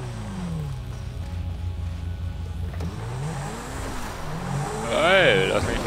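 Engine of a car in GTA 5, droning and rising in pitch as it drives, with a voice talking over it and a louder rev near the end.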